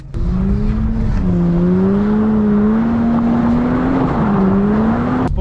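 A Lexus IS200 engine drones at steady high revs during a drift, a loud, continuous close-up roar with slight pitch wavering and no voices.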